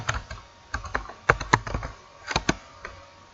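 Typing on a computer keyboard comes through close and clear, with irregular clusters of sharp key clicks and brief pauses between bursts, and no voices.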